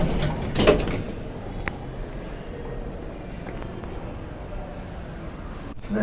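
A worn, knackered lift door slides along its track in a building in Amman, Jordan, with a scraping rumble near the start followed by a quieter, steady mechanical hum and a few faint knocks.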